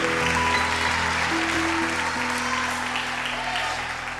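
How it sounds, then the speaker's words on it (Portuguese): A church congregation claps steadily through a pause in a Portuguese-language sermon, a dense, even wash of applause over a low sustained instrumental tone that fades slightly toward the end. "A irmã Siné começou a aplaudir."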